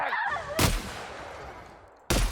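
A hard-kicking gun in The Outer Worlds fires two loud, sharp shots about one and a half seconds apart, each cracking close and then ringing out into a fading tail.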